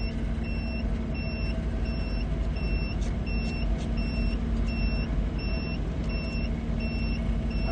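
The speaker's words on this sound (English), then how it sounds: "That's my inverter. It's mad because I plugged my laptop back in and I'm not driving." A car power inverter sounds an alarm inside a parked vehicle, a steady series of regular high-pitched beeps repeating about twice a second over a constant low engine and cabin hum, close and without talk.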